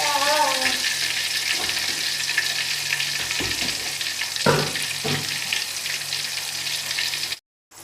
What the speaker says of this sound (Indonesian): Saya mau goreng tahunya dulu.